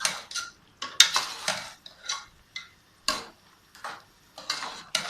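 Quick stirring of beef curry (baalti gosht) in a cooking pot, with a spoon giving a run of irregular metallic clinks and scrapes against the pot, close and fairly loud, with no talking.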